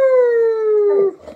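An Alaskan Malamute gives a single long, loud howl that holds a steady pitch for about a second before breaking off into softer whimpering noises.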